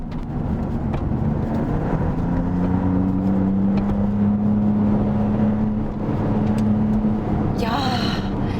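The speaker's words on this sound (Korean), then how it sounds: "가속을 했을 때 이 등 뒤에서 느껴지는 이 웅장한 배기음이 굉장히 기분이 좋습니다" A Maserati MC20 sports car accelerates on Inje circuit, its exhaust rising into a smooth, booming, sustained tone heard from the cabin while someone talks over it.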